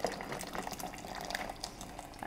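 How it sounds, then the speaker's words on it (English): Boiling water being poured from a kettle into a jug for tomato soup, a steady close splashing, gurgling stream that runs throughout at moderate loudness. "I'm just going to get some boiling water."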